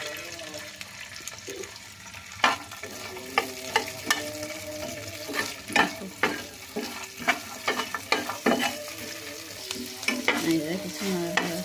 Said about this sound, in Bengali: একটা করে চুলার উপরে দিচ্ছি, গরম হয়েছে, অল্প পরিমাণে সরিষার তেল দিয়েছি।